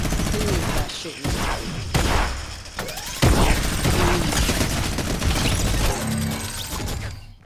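Gunfire in a Fortnite creative battle: rapid bursts of automatic shots mixed with heavy booms and crashing impacts, loud and chaotic, with a brief lull near the end and some background voice.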